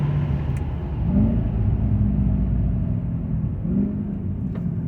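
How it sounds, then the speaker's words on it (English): A Nissan/Infiniti engine rumbles with two quick rising blips in pitch, each brief automatic rev-match punctuating a steady low drone during downshifts. "hear what the rev matching sounds like"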